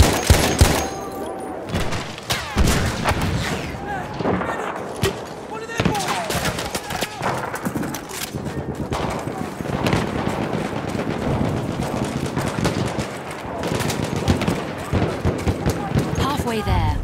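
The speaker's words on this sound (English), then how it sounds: "Enemy machine gun!" Battlefield 1 machine-gun fire rattles on a Sinai Desert Domination map, where a Madsen MG is in use. Dense, continuous bursts and scattered shots sound near and far, mixed with battle noise and voices calling out.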